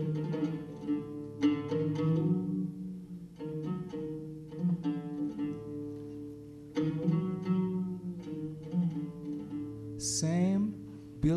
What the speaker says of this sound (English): But this is a Christian Armenian song.